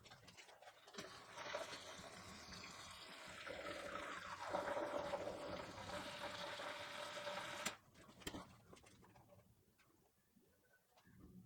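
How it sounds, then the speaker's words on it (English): Fuel and 2-cycle oil poured into the tank of a Mazda RX7 FB, a steady trickling pour that stops abruptly partway through, followed by faint clinks and handling noises, quiet and close. "put about half the fuel in the tank, pour our 2-cycle oil, and then put the rest of the fuel in"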